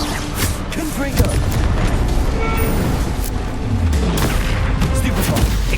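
Blasting-spell explosions boom repeatedly in Hogwarts Legacy during busy combat, with dense clatter and voices around them.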